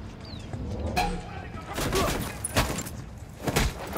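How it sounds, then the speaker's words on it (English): Gunfire in the video game Ghost Recon Wildlands comes as several muffled, booming shots over a dense background rumble, with a voice briefly heard. "Opening fire."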